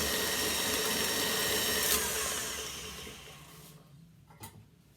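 An electric mixer creams butter and sugar in a bowl, a steady close motor whir that runs loud, then fades and thins out toward the end with a brief clatter, no voices.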